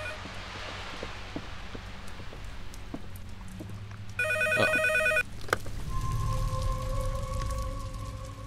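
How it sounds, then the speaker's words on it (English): A telephone rings in The Bakerville Case video game, one loud electronic ringing burst of about a second standing out over steady rain-like ambience and a low background hum. "The phone!"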